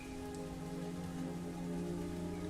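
Steady rain falls on a surface as a continuous, even hiss with dense patter, loud and close throughout, with no voices.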